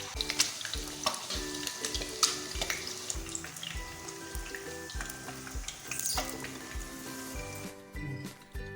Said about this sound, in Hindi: इसी तरह से हम अंडों को अच्छे से फ्राई कर लेंगे